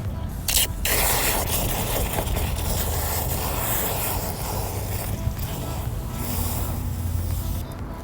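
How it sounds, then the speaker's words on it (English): A garden hose sprays forcefully into a bucket of Diablo Wheel Gel, a loud, steady hiss of rushing water that lasts throughout, with brief handling clatter at the start. "And then we're going to activate it using the hose."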